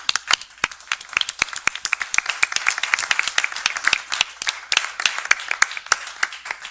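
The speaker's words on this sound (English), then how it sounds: "if you wouldn't mind joining me in a round of applause" Audience at a city council meeting clapping: a moderate number of hands giving sharp, distinct claps that build into a lively round of applause close by, steady for several seconds with no talk.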